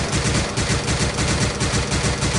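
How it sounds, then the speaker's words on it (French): Rapid automatic fire from an ACR rifle, fitted without a scope, in a Minecraft gun mod: a dense, continuous burst of loud shots running steadily throughout. "Après il y a la ACR, que j'ai exprès pris sans viseur"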